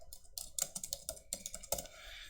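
Brisk typing on a computer keyboard, a run of quick close clicks and key taps in uneven bursts, with no voices.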